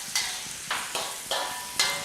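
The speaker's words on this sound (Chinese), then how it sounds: "蒜苗下锅" Garlic sprouts tossed in a sizzling wok with pork, chili bean paste and sweet bean sauce for twice-cooked pork, where a constant frying hiss carries five crisp metal spatula scrapes, close and alone.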